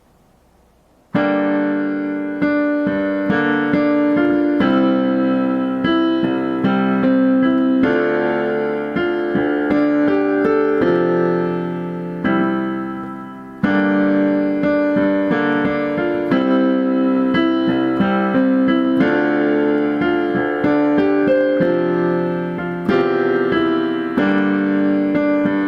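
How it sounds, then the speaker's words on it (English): Solo piano plays the slow intro of a song, both hands together, with sustained chords and a steady melodic line. It is loud and close with no talking, and there is a brief pause near the midpoint before the phrase resumes. "Together it sounds like this, very slowly."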